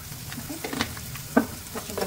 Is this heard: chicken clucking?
no